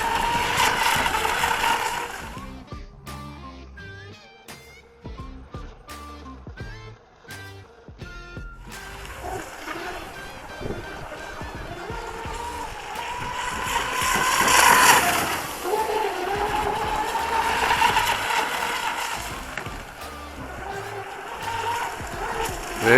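A fast electric RC outboard boat whines across the water, its motor pitch rising and falling with throttle, steady and moderately distant, with spoken commentary over parts.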